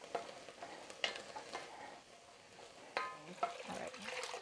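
Vegetables for minestrone soup sizzle in a pan while a spoon stirs them in irregular scrapes and clatters, the frying hiss steady and moderately close.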